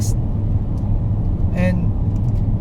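A 2019 Kia Optima GT turbo sedan accelerates, its engine giving a steady low droning rumble inside the cabin, with a brief squeak partway through.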